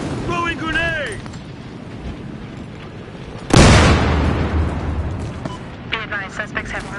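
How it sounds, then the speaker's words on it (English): Grenade blast in Battlefield Hardline on the Downtown map: one sudden loud explosion with a rumbling decay, preceded by radio-style voices and followed by scattered pops. "Throwing grenade!"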